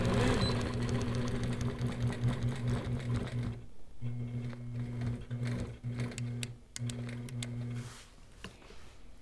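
Sewing machine stitching a churn dash quilt block, a close, steady rhythmic hum and needle clatter in several runs separated by brief stops, then fading to quiet handling noise.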